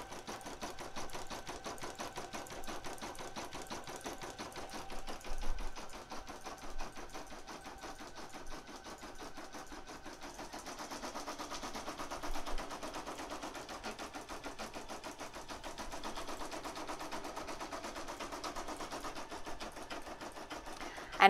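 An embroidery machine stitches lettering onto a can koozie, a steady fast mechanical needle rattle running continuously at close range with no talking.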